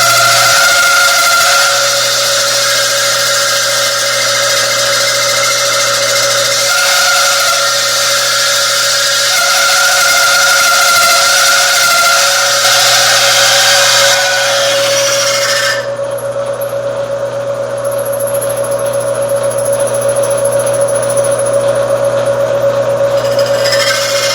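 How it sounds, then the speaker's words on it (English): A power drill whines continuously at a steady high pitch as it bores a bearing hole through metal on a roadster chassis, loud and close, with a shift in tone partway through. "So I'm set up to drill the hole for the bearing"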